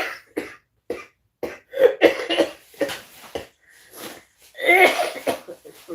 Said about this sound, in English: Yes, you have a cough.